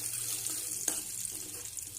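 Oil sizzles steadily as mustard seeds, cumin, dried chillies, garlic and curry leaves are tempered in a pan, with a constant hissing fry and a single sharp crackle partway through.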